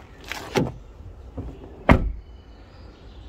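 The rear door of a Dacia Logan fitted with a rubber seal shuts with a few close, dull thuds, separated by brief rustles and clicks, with no talking.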